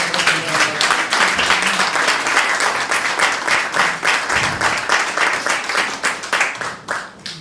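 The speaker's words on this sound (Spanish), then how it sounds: "le damos un aplauso nuevo a este señor" Audience applause at a book presentation in the Ateneo of Alcázar de San Juan, many hands clapping in a steady, dense wash that fills the room and tapers off near the end.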